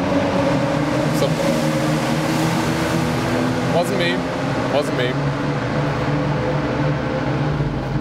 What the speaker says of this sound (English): Those were some motorbikes now.